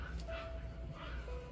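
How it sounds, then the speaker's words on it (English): Dogs play fighting in the background, faint yips and small barks muffled under a low room rumble, brief and intermittent. "if you hear my dogs in the background, they're fighting."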